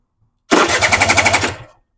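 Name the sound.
Suzuki LT80 quad engine turning over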